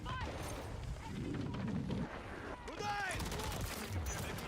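Gunfire in Call of Duty MW3, a dense fusillade of shots with rattling bursts, booms and whizzing effects in a busy multiplayer firefight, with game voices calling out over the battle noise.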